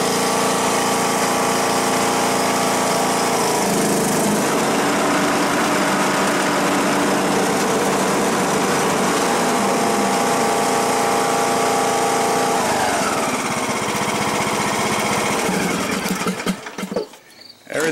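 John Deere D120 lawn tractor engine running with the mower blades engaged, a steady loud droning hum with whining tones that holds for most of the span, then a brief spell of clattering knocks at the end.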